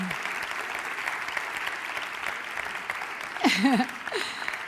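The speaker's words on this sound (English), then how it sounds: "So a big applause for them." An audience at an international women in sport congress applauds steadily at a fairly loud, even level. A voice briefly rises over the clapping near the end.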